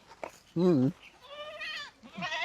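A goat bleats loudly once with a wavering, quavering cry, followed by softer animal calls and faint background noise.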